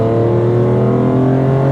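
BMW E46 M3 engine pulling smoothly while driving, a loud, steady, close-miked drone with strong even harmonics and no pauses.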